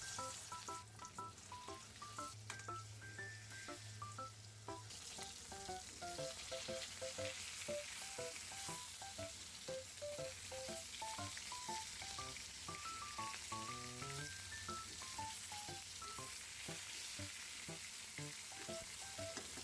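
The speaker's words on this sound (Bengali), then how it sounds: "এবার মাছগুলো ভেজে নেব।" Pieces of rohu fish frying in hot oil, a continuous close sizzle that stays even throughout, with faint background music playing underneath and no voices.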